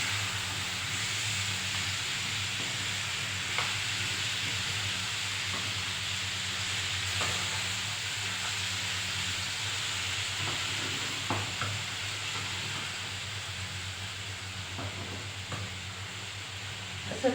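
Potatoes fry in a pan with a steady, dense sizzle and a low background hum, occasional faint stirring ticks, and no talking over it.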